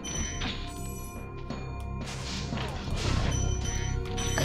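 Spyro the Dragon gameplay: a smashing attack lands with crashing thuds over a steady, dense bed of game music and background noise, the impacts growing louder toward the end.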